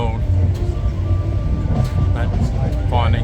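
A passenger train bound for Sihanoukville, Cambodia rumbles along, a steady low rolling drone from inside the carriage, with a voice talking over it.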